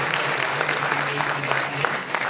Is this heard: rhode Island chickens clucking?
no